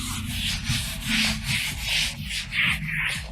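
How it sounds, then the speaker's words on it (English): Paper rubbed in rhythmic back-and-forth strokes over a dirty tile surface, a close, steady swishing scrape repeating about twice a second, with no talk. "you can go over it with some paper to give it a first wipe and remove the thickest layer"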